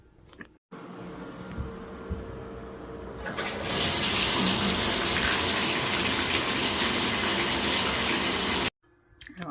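Tap water gushes into a bathtub, first as a softer trickle and then as a loud, steady broadband roar that runs for several seconds before cutting off abruptly.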